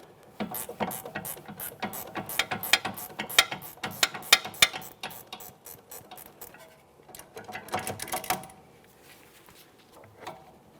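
A hand ratchet works loose the nut on a front sway bar link of a 2017-2024 GMC Acadia, sounding as a rapid series of close, sharp clicking bursts that fade away, then one brief final click, with no talking.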